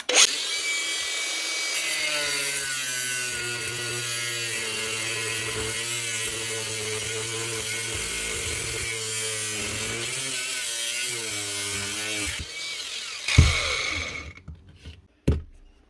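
A saw cuts through the metal chuck of a Makita DHP483 compact drill on a workbench, a sustained harsh rasping whine with wavering pitch that stops near the end, followed by a couple of sharp clunks.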